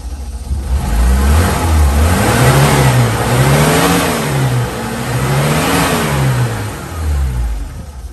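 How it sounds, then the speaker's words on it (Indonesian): Mitsubishi L300 pickup truck engine runs close by, rising and falling through several revs from idle, loud and alone with no talk. "Kita coba start engine. Oke, di start langsung hidup,"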